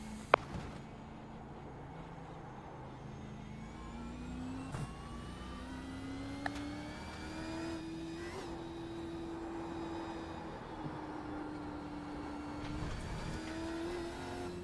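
A Gen3 Supercar on a hot lap around Oran Park in a racing game, its engine droning steadily and rising in pitch through the gears, with brief shift blips and no talk.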